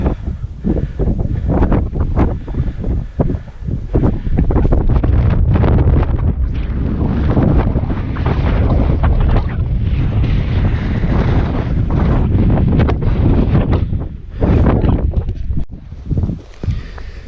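Strong wind buffets the microphone on the exposed summit of Mount Sherman, a loud continuous roar with gusty surges and brief drops, no voices.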